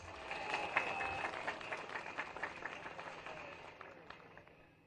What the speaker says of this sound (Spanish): Los aplausos, hermanas y hermanos.